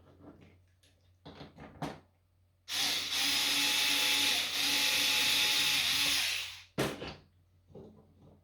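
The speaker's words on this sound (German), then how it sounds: "Ist jetzt hier auch nur ein 2 mm Bohrer" A 2 mm drill bit bores into a part for a Wanhao D12 3D printer, a loud whining burst lasting about four seconds, with small handling clicks and knocks before and after.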